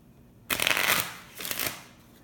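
Crystal oracle cards are shuffled in two quick riffling bursts, the first longer and louder, then a brief pause before the second, close by with no voices.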